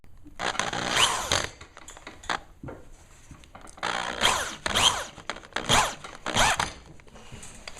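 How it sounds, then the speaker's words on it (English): A power drill drives structural screws into wood in a workshop, with several loud bursts of whirring and grinding separated by short pauses and no voices. "you got to have a good drill to drill these structural screws in"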